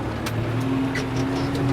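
A 2017 New Holland TD90 tractor engine runs steadily during fallow ploughing with a 5-12 plough, a continuous close mid-pitched drone with a low hum, heard alone.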